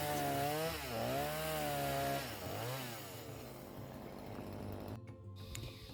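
A chainsaw cuts rainforest mango wood into boards, its engine screaming loud and close, rising and falling in pitch as it bites, then settling into a steadier rough drone with a brief dip near the end.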